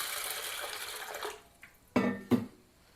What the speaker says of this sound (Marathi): हा साबुदाणा आपल्याला 2 पाण्याने स्वच्छ धुवून घ्यायचा आहे